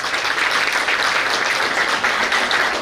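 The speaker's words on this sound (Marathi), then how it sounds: "परत एकदा मॅडम साठी जोरदार टाळ्या." An audience claps steadily at a university zoology department retirement ceremony, a dense, continuous wash of applause that stays loud and even throughout with no speech over it.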